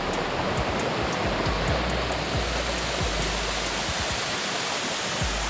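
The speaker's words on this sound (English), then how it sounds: "So that's Jones Gap Falls." Steady broadband rush of Jones Gap Falls, a waterfall in a park along the Rim of the Gap Trail, loud and continuous like close white water with no voices.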